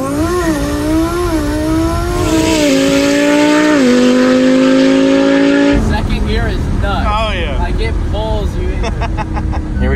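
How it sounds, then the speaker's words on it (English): Lamborghini engine revs hard through a boosted launch, rising pitch climbing repeatedly through gear shifts, loud and close, with a sharp change midway and voices talking over it. "We're gonna do a boosted launch without the slingshot to see how fast the car is without that torque off the line."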